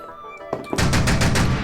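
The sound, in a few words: autocannon gunfire sound effect in a tabletop wargame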